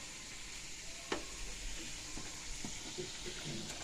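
Gujiya frying slowly in oil over a low flame make a soft, steady, fairly quiet sizzle, with a few light clicks of stirring or the utensil.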